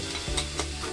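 Chicken empanada filling being stirred with salt and pepper in a hot pan: a short, soft scrape of a utensil over a steady background sizzle, close by.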